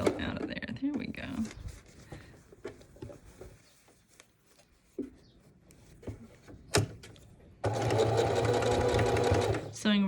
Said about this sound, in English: Sewing right over the pleat there,